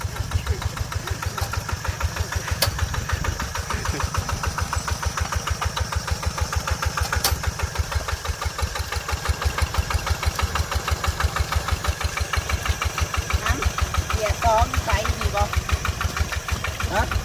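A walking tractor's engine idles while plowing a field, thumping in a fast, even, close rhythm for the whole stretch, with people talking over it.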